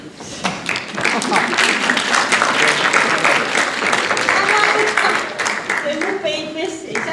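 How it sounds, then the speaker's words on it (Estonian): A room full of people claps for a bridegroom who has just come in, a dense and steady applause that lasts several seconds. Voices talk and exclaim over the clapping. "Aplaus ka."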